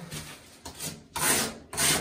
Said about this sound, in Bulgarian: Обикновено трябва да се шлайфа след всяка една ръка, но аз тук ще шлайфам